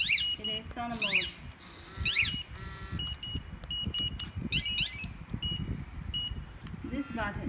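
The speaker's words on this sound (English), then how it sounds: "Now I shock alarm again. Yes, siren makes sound." A Cardot two-way motorcycle alarm siren wails after a shock trigger, its repeated rising and falling electronic tones sounding close and loud, with someone talking over it.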